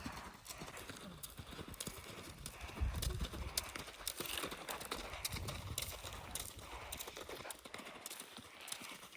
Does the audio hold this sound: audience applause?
no